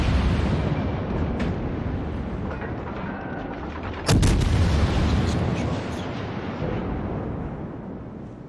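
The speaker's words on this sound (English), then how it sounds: "Montana is trying to shoot me" Battleship gunfire in a naval video game, heavy booming salvos with one sharp loud blast midway and rumbling aftermath, several distant shots scattered around it.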